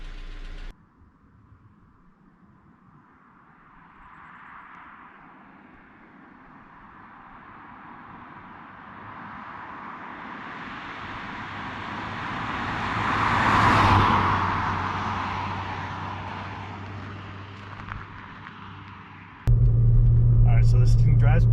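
A Chevy Sonic RS engine, which has a clicking fault, hums steadily while driving, its rumble rising and swelling toward the middle, with people talking over it and a louder noise at the end.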